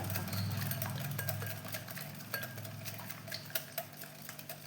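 A powdered sugar mixture for milk cake is stirred in a bowl, giving faint, irregular clinks and scrapes of a utensil against the dish over a steady low hum, with no voices.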